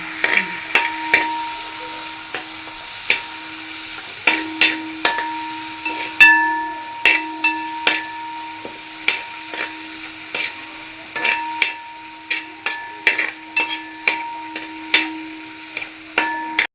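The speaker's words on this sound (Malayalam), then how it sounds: "ചെറിയ ഉള്ളി നന്നായിട്ട് നമ്മൾ ഇളക്കി കൊടുക്കുന്നുണ്ട്" Small shallots frying in a pan, stirred with repeated sharp scraping and tapping strokes in an irregular rhythm over a low sizzle, close and clear with no voices.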